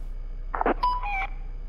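Short electronic alarm chime in the horror game Graveyard Shift at Freddy's, a couple of quick tones then a ringing two-note beep, moderately loud over a low steady hum, no talking.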